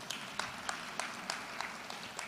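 Congregation in a church service claps together after a sermon, a steady wash of many hands with rhythmic accents roughly three times a second, fairly distant and without voices.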